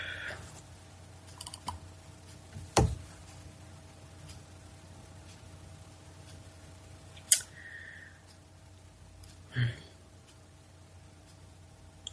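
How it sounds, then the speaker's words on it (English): Computer mouse clicks during a live online show, a few sparse, isolated clicks and taps spread over a quiet background with faint room hum. "That's why you're hearing some of the clicking too."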